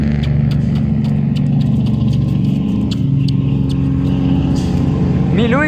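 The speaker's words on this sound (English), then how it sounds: "Listening those noisy fucking trucks. Terrible trucks." Heavy trucks rumble past close by, a loud, continuous low engine drone with revving swells, while someone talks over the traffic.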